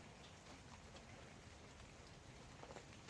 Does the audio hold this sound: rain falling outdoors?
yes